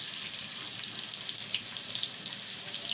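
Chopped onions sizzle as they go into hot oil for a mutton curry, a steady close-up crackle with small pops scattered throughout and no talking.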